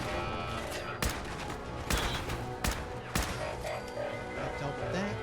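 Gunshots in Fallout 4, several sharp loud reports spaced about a second apart over a continuous game soundscape of ambient music and effects, with talk-like sound faintly present.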